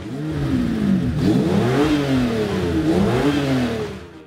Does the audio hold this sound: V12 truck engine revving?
yes